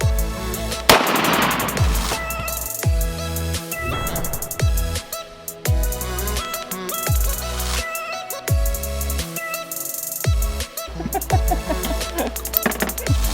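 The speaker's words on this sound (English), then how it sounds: "don't mess around with the 460" Repeated loud gunshots from a .460 pistol firing 200-grain Hornady rounds, a dozen or so sharp blasts spaced irregularly, each with a booming low-end thump and ringing tail, no talking.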